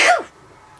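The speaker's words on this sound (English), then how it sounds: "Oh, I gotta sneeze." A single close, loud human sneeze with a sharp burst that trails off, followed by a brief sniff or breath.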